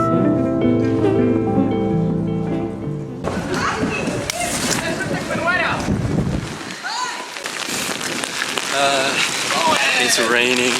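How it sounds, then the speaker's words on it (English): Music plays briefly, then steady rain patters and splashes on a surface, close and dense, continuing throughout. "It's raining now."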